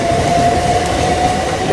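Southern Electrostar class 377 electric train passing through Preston Park station, a loud steady rumble with a sustained electric whine close by, ending abruptly at the end.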